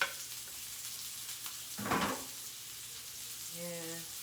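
Seasoning is stirred into a casserole dish with a soft sizzling hiss, a brief louder scrape near the middle, and a faint tonal hum toward the end, close and quiet with no talk.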